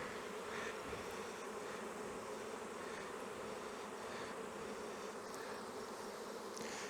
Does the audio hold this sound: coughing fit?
no